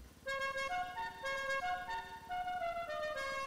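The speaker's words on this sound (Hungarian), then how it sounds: "ebben milyen kürt illene?" Car horn options cycling in a video game tuning menu for a Pegassi Tezeract, a series of bright musical horn tones that play short melodic phrases in quick succession, loud and clear with no talk.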